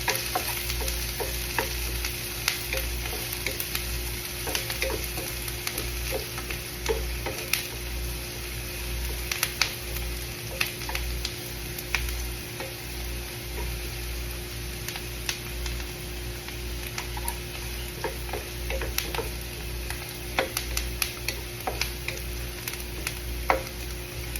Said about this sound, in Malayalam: നമ്മൾ നന്നായിട്ടൊന്ന് ഇളക്കി കൊടുക്കണം